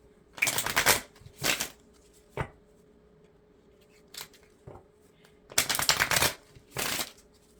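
Tarot cards are riffle-shuffled close by in several loud, rapid bursts separated by quiet pauses and a few soft taps.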